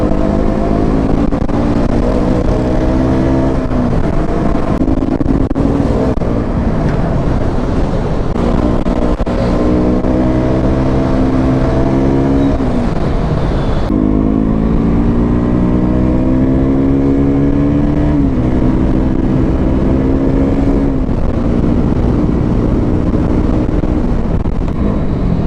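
A KTM RC 200 motorcycle rides fast through Bangalore streets at night, its engine loud and close, revving up through rising gear pulls, dropping at shifts, then climbing again, with wind rush throughout.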